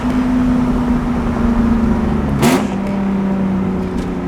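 BMW E36 exhaust on deceleration, a loud steady drone heard from inside the car that drops in pitch as it slows, with a brief whooshing burst partway through.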